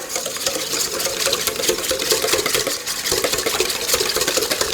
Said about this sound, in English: now with this little mixture, we're just going to whisk that together